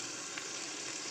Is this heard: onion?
yes